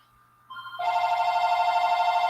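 A landline house telephone starts ringing, its electronic tone sustained and fairly loud after a brief quieter lead-in, close by in a quiet room with no voices.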